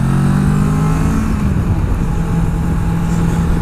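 A Kawasaki Versys 650 motorcycle on a test ride gives a steady, loud engine drone close to the mic, its pitch easing slightly downward as wind noise rushes over it.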